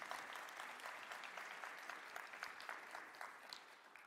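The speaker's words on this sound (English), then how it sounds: "let's give them all a round of applause" An audience at a university social justice symposium claps steadily throughout, a dense, even patter of many hands at moderate distance with no voices standing out.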